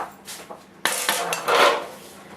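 A kitchen drawer slides open with a loud clatter of pots, pans and metal utensils rattling inside, a couple of sharp bangs then a longer jangle.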